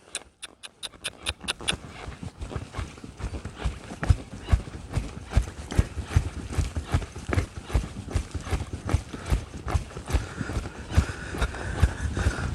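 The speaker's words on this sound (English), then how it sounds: "So let's bring him back up to a trot." A trained horse trots steadily through a schooling session, hooves striking in a quick, even two-beat clip-clop close by, with brief faint noises at the start before the rhythm settles and carries on throughout.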